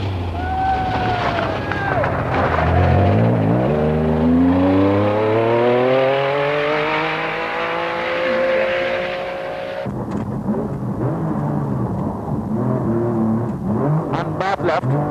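A rally car on a stage of the 1986 Circuit of Ireland Rally, running stuck in second gear, roars loudly with rising engine revs and sharp gear changes, under wind buffeting and commentary.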